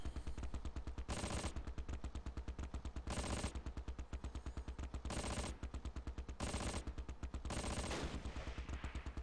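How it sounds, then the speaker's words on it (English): Bursts of MG34 machine-gun fire in the video game Close Combat, several rapid rattling volleys separated by short pauses, loud and close with no talk over them. "It's an MG34 in there."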